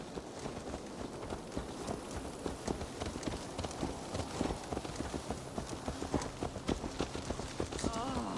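Horse hooves clip-clop in a steady walking rhythm in Assassin's Creed Valhalla, each hoofbeat crisp and close, running continuously under faint background ambience.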